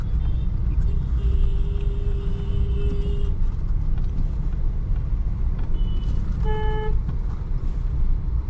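Congested road traffic near the Sangamner bus stand in Maharashtra, with a constant deep engine rumble, a sustained horn blast early on, and a quick series of sharp toots and beeps later, all close and loud.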